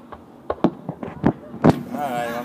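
Independence Day fireworks crackle and pop in a quick irregular series of sharp bangs, one louder burst near the end, followed by a brief whooshing tail, with voices nearby.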